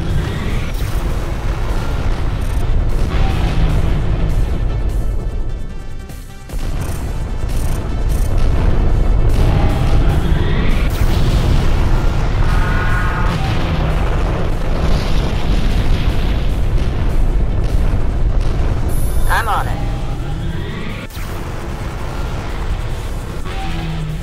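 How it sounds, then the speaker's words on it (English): Loud, dense rumbling blasts from the destroyed ship Visago in the space combat game Freespace, with booms and crackling bursts rolling on continuously and a brief dip partway through. "The Visago has been destroyed."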